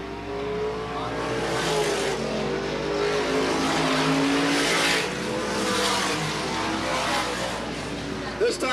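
Supermodified race cars from 1985 roar around Sandusky Speedway in a continuous loud pack, engines droning and swelling as cars pass, with a race announcer talking over the din.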